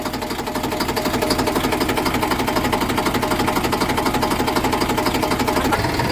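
A tractor engine running close by, a steady rapid mechanical chugging that stays even and loud throughout, with no talk over it.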